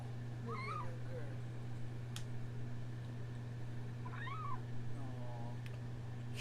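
A little kitten cries in a played-back recording, two or three thin high meows spaced a couple of seconds apart, faint over a steady background hum.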